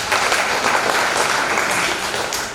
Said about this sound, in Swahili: Kwa hiyo tafadhali jipigeni makofi.